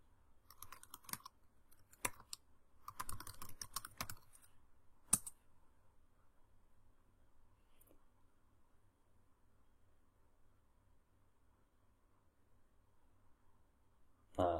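A computer keyboard typing in a few quick, faint bursts of keystrokes and one firmer key press, spread across the first five seconds before a long, near-silent stretch with a soft knock at the end.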